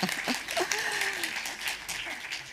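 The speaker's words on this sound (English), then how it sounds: "There we are, round of applause." Audience applause at a recorded public policy event, a steady wash of clapping that fills the whole stretch at moderate loudness, with some speech-like sounds mixed in.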